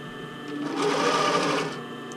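Steady, close whir of a sewing machine stitching elastic along the edge of bra fabric, swelling briefly louder in the middle of the short run.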